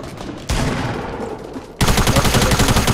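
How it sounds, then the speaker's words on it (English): A machine gun fires in the Fortnite video game: a loud continuous burst of rapid shots, pausing briefly before a second, even harder-hitting stretch of gunfire. "Machine gun"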